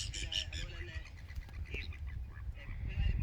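Ducks quacking on a lake, a cluster of bright honking calls close by with outdoor background murmur underneath and a bit of nearby voice.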